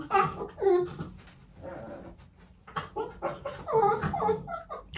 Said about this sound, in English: my dogs are just in the back playing